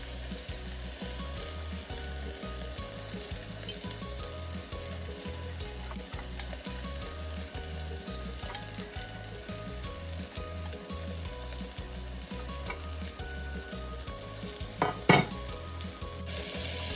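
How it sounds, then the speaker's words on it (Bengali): Soaked pulao rice is sautéed with fried cashews in a pan, giving a continuous close sizzle with repeated stirring scrapes and a couple of sharp utensil clanks near the end. "ওই চালটাকেও একটু সাঁতলে দেবো, মানে নাড়িয়ে চাড়িয়ে নেব"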